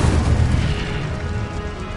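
An Incendio fire spell erupts in Hogwarts Legacy, a loud booming burst with deep rumbling that rolls and fades over two seconds.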